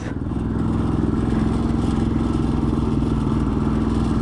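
A motorcycle engine labours steadily while climbing uphill on a road near Ooty, with a rough, constant drone and clattering throughout.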